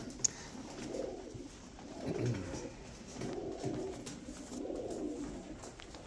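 A racing pigeon cock coos in soft, repeated low rolling phrases, roughly four in a row, close but faint, with a quiet background and no talking.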